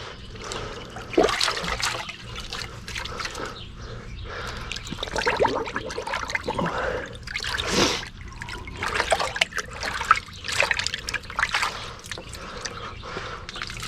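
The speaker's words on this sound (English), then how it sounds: "we're just going to rinse them off, snap them off." Animal hides rinsed in warm clean water, with irregular splashing, sloshing and trickling in uneven bursts, fairly close and moderately loud, with brief pauses between.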